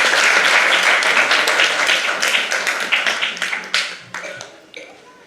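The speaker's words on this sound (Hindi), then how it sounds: "ताली बजा दो, इस बात पे ताली बजा दो।" An audience breaks into dense applause at a Digambar Jain religious gathering, loud and sustained at first, then thinning into scattered, distinct claps that fade toward the end.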